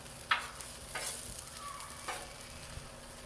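French fries sizzle on a grill, a steady close frying hiss broken by a few sharp scrapes and stirring clatters, with no voices.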